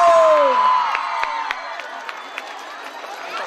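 A fair crowd cheers and shouts together at an outdoor event, a loud sustained roar that gradually fades, with scattered whistles and whoops standing out near the end.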